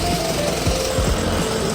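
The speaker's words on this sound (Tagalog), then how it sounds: "So, yeah, may construction, yeah. Yung ginagawa nila." Construction work at a Tokyo building site makes a steady, loud mechanical roar with a gritty, grinding texture and a continuous machine hum, with no talk over it.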